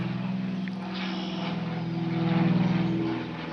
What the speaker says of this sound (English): And there's been a lot of planes flying over.